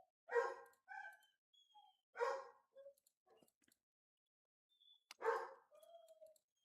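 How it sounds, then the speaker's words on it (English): A dog barks in the background during a severe weather livestream, three separate bursts of sharp barks each trailing into short whines, fairly distant and alone. "Sorry for the background, dog."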